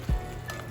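Mushrooms sizzle in a pan for beef stroganoff, with one low scrape of a spoon stirring them near the start, then a soft steady frying hiss, close and quiet.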